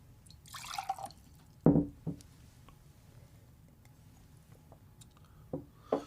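Water from a pitcher makes a few short, close splashes and drips separated by quiet pauses, with no voices.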